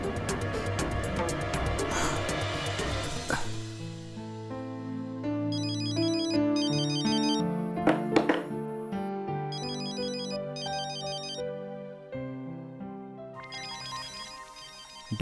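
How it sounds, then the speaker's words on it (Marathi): A phone ringtone plays for an incoming call from dad in a Marathi TV serial, a loud melodic electronic tune with repeating chimed phrases and bell-like notes, continuing steadily with no talking. "डॅडचा फोन."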